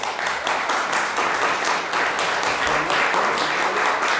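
An audience at a networking event applauds an award recipient, steady dense clapping throughout, fairly loud and sustained with faint voices mixed in.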